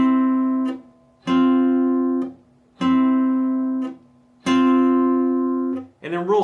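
Four slow, evenly spaced guitar double-stops from the bridge of part 1, repeated twice through, each ringing and decaying before the next, close and clear, with a brief voice starting at the end.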